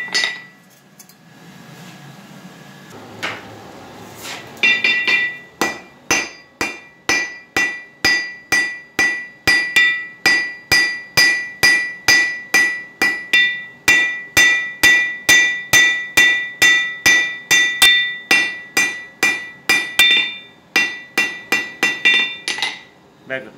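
A hammer strikes metal on an anvil in a steady, ringing rhythm while drawing out metal in blacksmith forging, dozens of sharp blows in a row after a few scattered taps, with no talking.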